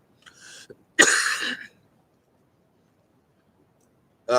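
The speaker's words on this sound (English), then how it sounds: "Sorry about all the coughing" A short throat-clearing cough followed by a harsher, louder cough, then silence before another cough starts at the end.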